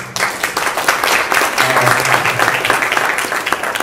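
Applause from an audience at a community talk about resources for families with autistic children, dense steady clapping lasting several seconds at close range.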